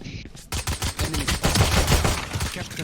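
Rapid bursts of gunfire from the tactical shooter Valorant ring out in quick succession, loud and close, with a brief quiet moment at the start.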